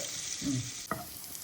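Garlic cloves frying in melted butter for a broccoli dish, giving a steady close sizzle with a brief soft stir and a clink partway through.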